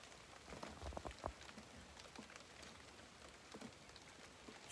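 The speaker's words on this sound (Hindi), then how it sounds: "सो बारिश शुरू हो गई है" Rain falling in the Spiti valley, a soft, distant patter of drops on surfaces with a few sharper close taps early on, steady and fairly faint throughout.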